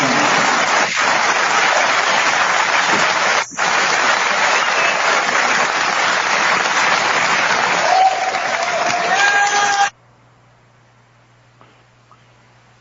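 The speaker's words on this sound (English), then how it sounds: "That's why these people are just applauding so they can participate." A concert audience applauding, a dense, loud, continuous roar of clapping for about ten seconds, then it cuts off abruptly to near silence.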